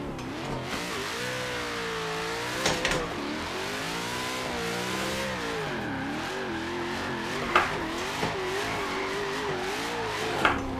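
A race car engine in a racing game played on a Logitech wheel, revving and shifting continuously with rising and falling pitch, loud and close, a few sharp clicks scattered throughout, no talking.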